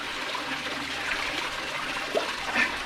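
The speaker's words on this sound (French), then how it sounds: "La cascade de 45 mètres approche." Broad, steady rush of falling water from an approaching 45-metre waterfall in a dark, vertical canyon gorge, a continuous hiss with no clear breaks, moderately loud and filling the whole moment.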